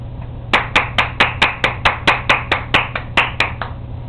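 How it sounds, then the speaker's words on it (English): About fifteen crisp, evenly spaced hand claps at a steady rhythm, close and isolated like a single person clapping, over a low constant hum, ending after roughly three seconds. "Thank you for your applause."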